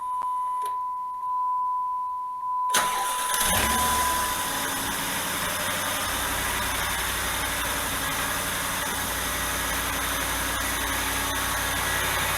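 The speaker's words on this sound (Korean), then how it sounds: "이게 초기 엔진 소리예요." A cold Dodge Dakota V8 with a fan clutch cranks and fires after a beep, then settles into a loud, steady, rough idle right up close, with no talking.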